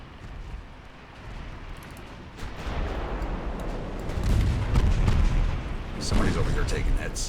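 Warship guns in a naval battle game set among 1890s dreadnought-era fleets, the Italian navy engaging a Wurzburg, boom in rolling, overlapping salvos that build louder over time while someone talks underneath.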